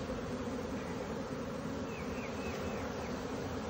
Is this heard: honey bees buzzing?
yes